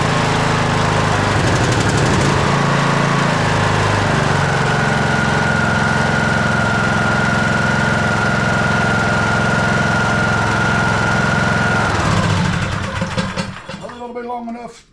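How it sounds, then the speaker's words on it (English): A Troy-Bilt lawn tractor that had been sitting cranks over and catches, its small engine running loud and steady with a rough droning note for about twelve seconds before dying down, close up. "All right, let's crank it, see what happens."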